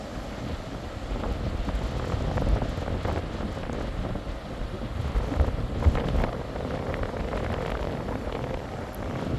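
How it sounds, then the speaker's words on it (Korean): Strong wind buffets the microphone over the steady roar of powerful sea waves on a Moroccan coast, a dense, continuous wash with no voices. "파도가 강력하고 또 위에는 바람이 강력합니다."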